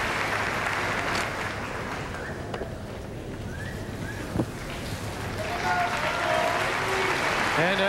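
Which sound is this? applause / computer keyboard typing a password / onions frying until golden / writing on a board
applause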